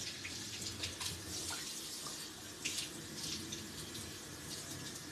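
Water runs steadily from a tap into a sink, a continuous close hiss and splash with no break.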